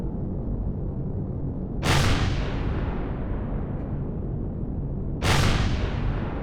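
Plasma cannon fire in the space combat game Empyrion Galactic Survival: two loud, sharp blasts about three and a half seconds apart, each with a fading tail over a steady low rumble.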